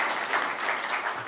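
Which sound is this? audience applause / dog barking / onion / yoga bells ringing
audience applause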